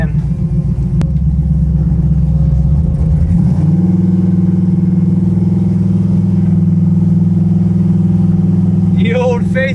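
An old Buick Regal street car with non-power brakes being driven, its engine giving a loud, steady low rumble that shifts up in pitch a few seconds in and then holds an even drone, with a voice briefly at the end.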